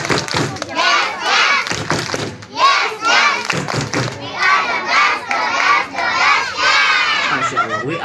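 A group of kindergarten children at a school Maulid Nabi celebration performing a rhythmic 'tepuk semangat' clapping cheer, loud shouted chanting in unison punctuated by bursts of hand claps, close and energetic.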